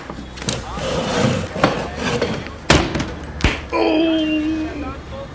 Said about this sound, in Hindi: डर के मारे दुकानदार नींद में कुर्सी से गिर गया।